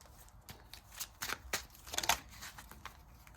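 Astrology oracle cards being shuffled by hand, a quick run of crisp riffling flicks and slaps in uneven bursts, close and fairly quiet with no talking.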